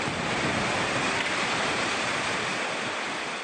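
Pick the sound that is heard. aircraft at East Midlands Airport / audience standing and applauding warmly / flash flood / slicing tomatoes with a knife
flash flood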